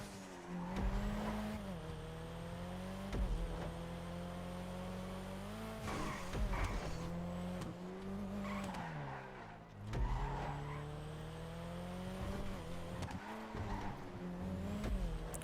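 An Elegy Retro Custom in GTA laps a test track through tight U-turns and 90-degree bends. The engine drones steadily, rising and falling as the car brakes and accelerates, with repeated tire squeals through the corners.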